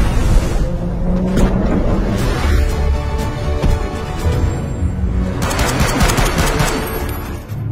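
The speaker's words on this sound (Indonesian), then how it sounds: "Tanpa diduga, ternyata Joe diketahui oleh Lovdah yang berniat untuk menembak Joe" Rapid bursts of automatic gunfire in a shooting video game scene, dense and loud, rattling continuously over an in-game background din with no talking.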